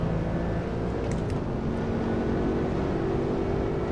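A Corvette C6 GS or Z06 V8 drones steadily at Putnam Park in rFactor 2, a dense, continuous low engine roar that holds a fairly constant pitch throughout, loud and alone without talk.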